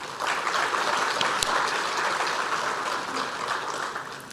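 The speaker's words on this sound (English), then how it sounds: "So please give them another round of applause." An audience in a hall at a ceremony honouring high-achieving HSC students and university graduates breaks into sustained applause, a dense, even wash of clapping that stays loud throughout with no talking over it.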